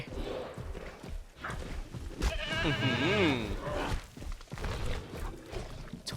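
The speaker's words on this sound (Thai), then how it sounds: "มาดูการล่าแพะของคาโนครับ" A goat bleats in wavering cries while hunted by a Carnotaurus in the Jurassic World Evolution video game, the calls rising and falling over a few seconds amid game ambience and a voice talking.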